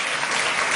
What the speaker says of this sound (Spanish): Más de un minuto de aplausos. Toda la sala en pie para decir adiós a Rajoy.